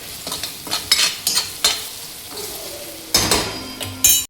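Chivda masala with turmeric, chili powder and ground peanuts is stirred in a frying pan, with repeated scraping strokes and clinks over a soft sizzle, close and rhythmic.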